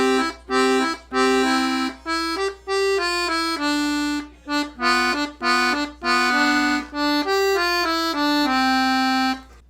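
A 48 bass accordion plays the Dreydl song melody in two joined phrases, clear reedy notes in a steady rhythm with short breaths between them, close and alone.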